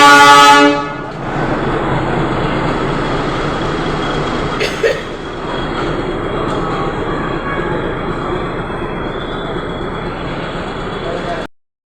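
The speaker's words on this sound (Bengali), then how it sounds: "ট্রেনটাই সামনে দিয়ে বেরিয়ে চলে গেল" The Ooty toy train pulls away past the platform, its horn sounding briefly at the start before a steady rumble of wagons rolls by close and loud, then cuts off.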